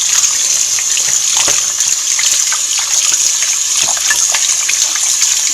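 Tap water gushes steadily from a faucet while goat meat is washed, a loud, close, continuous splash with occasional clicks and knocks from handling.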